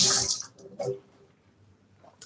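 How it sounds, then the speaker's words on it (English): Running tap water pours briefly in a kitchen sink as hands are rinsed during vegan, gluten-free oat cookie baking; a loud splashing rush at the start fades quickly, followed by a softer splash and quiet dripping. "I just want to rinse my hands"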